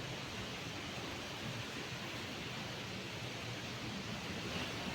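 Rain pours steadily around and drips into a house, a constant even wash of hiss with no breaks and no voices.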